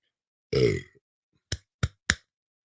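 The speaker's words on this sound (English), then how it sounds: "Excuse me, I got to burp real quick." A single deep, voiced burp from a man hosting a live sports show, followed by three short, sharp thumps or clicks in quick succession, close and fairly loud against silence.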